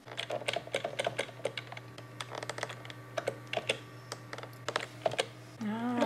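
Keys on a computer keyboard are tapped in quick, irregular clusters of close clicks over a low steady hum, and a voice begins speaking at the very end.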